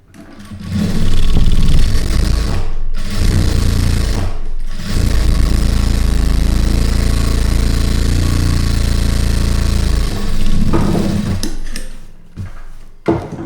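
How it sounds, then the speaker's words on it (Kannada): A sewing machine stitches along the top edge of a garment lining in a tailoring lesson, a loud steady mechanical whirr running continuously for several seconds with brief stops at the start and finish. "ಈ ಲೈನಿಂಗ್ ಮೇಲ್ಗಡೆ ತುದಿಗೆ ಒಂದು ಹೊಲಿಗೆನ ಹಾಕ್ಕೊಳ್ಬೇಕು"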